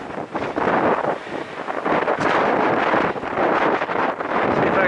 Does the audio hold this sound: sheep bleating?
no